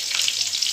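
Dried red chillies, bay leaf and whole cumin hit hot oil in a brief, loud burst of sizzling and spitting, close by.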